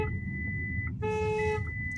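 A Skoda Enyaq iV 80 electric car's warning tone beeps in steady, evenly spaced pulses after an emergency stop, clear and close over a low hum.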